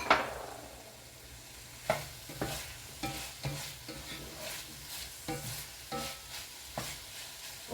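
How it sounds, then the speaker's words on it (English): Zucchini sizzles in a hot pan as a spoon stirs it, with repeated scraping strokes at a steady rhythm over a constant low frying hiss, close and fairly quiet. "And now I'm going to add zucchini."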